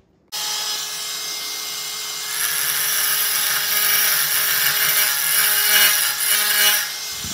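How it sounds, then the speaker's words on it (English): A benchtop Dremel rotary tool with a carbide bit files tool steel. After a sudden start it gives a steady high whine and grinding hiss that grows rougher and louder midway, close and continuous, with no speech. "Now we're performing filing on tool steel."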